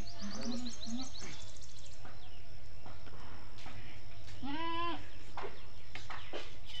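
Goat bleats close by, a couple of short calls early and one longer wavering bleat midway, with a steady low hum and other farmyard noises behind.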